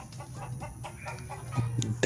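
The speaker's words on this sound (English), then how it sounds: "Come in here, chicken chicken." Chickens cluck and squawk during a backyard chase toward a house, with repeated short calls, fairly close, and a louder burst near the end.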